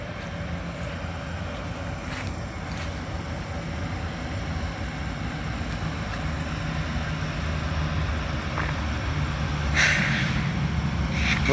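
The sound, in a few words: train with maintenance equipment pulling in and stopping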